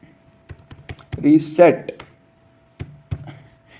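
Computer keyboard keys tapped while HTML form code is written, a few scattered clicks near the start and a brief pair later, with a voice speaking over the middle of the clip.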